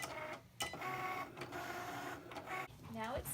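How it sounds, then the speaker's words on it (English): A Cricut Make machine cutting paper for the first layer of a craft project, its motor whirring and buzzing in steady mechanical passes with brief pauses, with a person speaking over it. "I just loaded the project into the machine, so I'll press the Cricut button"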